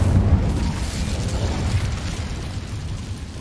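A fire spell cast in the Hogwarts Legacy video game produces a loud, rumbling burst of flame that roars up at once and then burns on steadily without pause.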